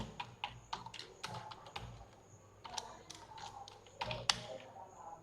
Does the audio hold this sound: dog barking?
no